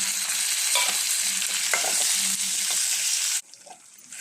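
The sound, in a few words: sautéing ripe tomatoes with garlic and shallots in pan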